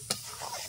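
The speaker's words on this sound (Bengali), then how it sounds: "কুমড়োটা ঘি দিয়ে ভেজে নেব।" Pumpkin pieces frying in ghee over medium heat as a Bengali sweet is prepared, with a soft steady sizzle and a brief sharp clink of stirring near the start, no voices.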